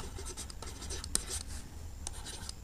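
Pen or pencil scratching across paper while a trigonometry solution for a class 9 maths exercise is written out, a steady soft scribble with short strokes and a few sharper taps, quiet and close, with no talking.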